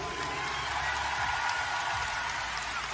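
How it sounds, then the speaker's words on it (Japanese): A large dome crowd at a concert in Nagoya claps in a dense, sustained wash of applause that fills the arena evenly for the whole stretch. "そんなスタッフさんの皆さんに大きい拍手お願いします。"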